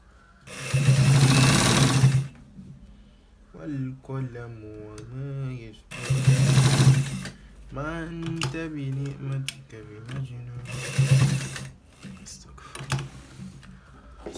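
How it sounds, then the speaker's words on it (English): A sewing machine stitches a collared shirt in three loud, rapid bursts of whirring stitches, each about a second or two long, with someone talking in the pauses between them. "We are stitching a shirt with a collar."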